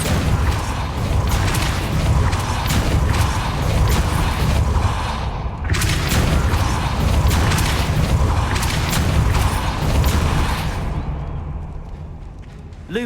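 The Depulso spell in the video game Hogwarts Legacy lands as a string of heavy booming thumps and rumbling impacts, loud and close, with a brief pause midway before the blasts resume and then fade.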